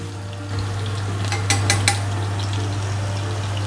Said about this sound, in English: Now we can add our chopped garlic to this.